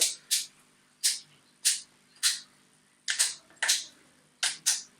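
A series of sharp mechanical clicks from a Retay Masai Mara semi-automatic hunting shotgun's parts locking in, about nine, some in quick pairs, loud and close with quiet between them.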